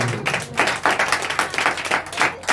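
A congregation claps together during a church sermon in a rhythmic series of about a dozen loud, close claps over under three seconds, with no speech.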